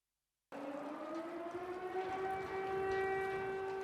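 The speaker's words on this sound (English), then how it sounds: "Air raid sirens in Uman." A civil defense air raid siren wails in Uman, Ukraine, its tone rising slowly and then holding at a steady pitch, distant yet clear over a faint outdoor background.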